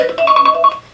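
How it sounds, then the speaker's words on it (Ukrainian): A phone alarm rings with a short, bright electronic melody of repeated tones, close and clear, lasting about a second with no voices. "це мій будильник"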